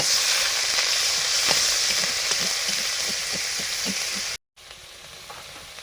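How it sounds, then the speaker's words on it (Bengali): A big boal fish cooking in a pan with black cumin and onion paste, a continuous sizzle with light stirring taps, briefly cut off before resuming. "বোয়াল মাছের রান্নাটা করছি, কালো জিরে, পেঁয়াজ বাটা"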